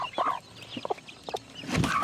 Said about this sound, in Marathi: तो तिथे शिद्रा कोंबडा आहे.